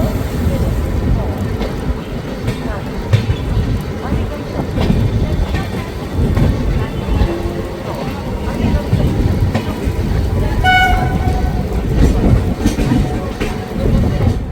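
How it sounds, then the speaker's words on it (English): The New Jalpaiguri New Delhi Express pulls out of Moradabad, a continuous rumbling roll with rattling and clanks, heard from on board, while a brief horn-like tone rises near the end. "Our train is about to depart now."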